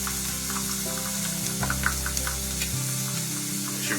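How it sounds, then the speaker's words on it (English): Minced garlic hits hot vegetable oil with a softened onion for turkey chili, giving a gentle sizzle with a few crackles and a brief stir, fairly quiet and close. "now we're going to add in 3 garlic cloves minced"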